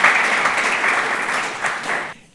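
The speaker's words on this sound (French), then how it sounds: "Applaudissements pour un promoteur heureux" An audience in Rennes applauds a happy property developer, a brisk burst of clapping that cuts off abruptly just before the end.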